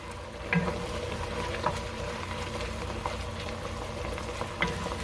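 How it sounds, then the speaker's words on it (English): Onions and wine simmering and reducing in a pan for Chicago-style Italian beef, a soft steady bubbling sizzle with occasional small pops and stirring clicks, no talking. "Just let this simmer and let the liquid reduce."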